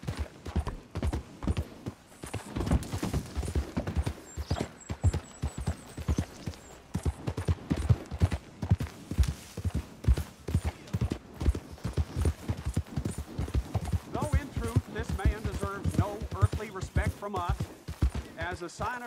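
Horse hooves clip-clop in a rhythmic walking gait in Red Dead Redemption 2, steady and close throughout, with someone talking over them in places toward the end.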